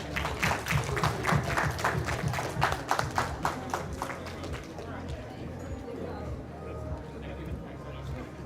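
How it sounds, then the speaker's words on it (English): Audience applause fills an auditorium at the SREday Hyderabad technical conference: a burst of dense clapping for about five seconds that thins and fades into room murmur and low background voices. "can we please give him a round of applause?"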